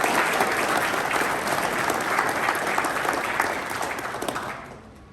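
Graduates at an Army Ordnance graduation ceremony give a round of applause, dense and sustained clapping that thins and fades out over the final second.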